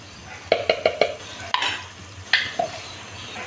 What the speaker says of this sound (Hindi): पहले मसाला भूनेंगे, टमाटर, कुटी मिर्ची, हल्दी और नमक